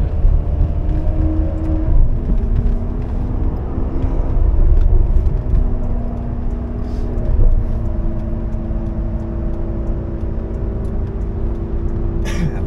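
A Ferrari 599 GTB Fiorano idles and cruises with its exhaust valves open, a continuous deep engine drone with steady tonal hum that swells briefly around the middle, close and loud with no talk over it.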